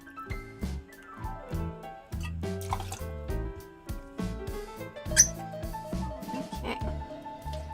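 Light rum drips and gurgles as two ounces are poured for a Mary Pickford cocktail, a close series of small liquid plinks and trickles with a rising filling tone, no voices.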